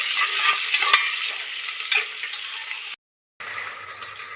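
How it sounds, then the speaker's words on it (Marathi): Onions are sautéed until brown in a pan for dal khichdi, giving a continuous frying hiss with scraping stir strokes near the start, then a short silent gap before the sizzle resumes more faintly. "मस्त आपल्याला ब्राऊन कांदा वगैरे त्याचं मस्त परतून घ्यायचं"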